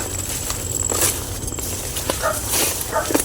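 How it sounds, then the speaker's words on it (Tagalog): A dog near a house barks in a few short, scattered yelps, moderately distant, over steady outdoor rumble and footsteps. "Tumatahol na si Nat. Yan, tumatahol na."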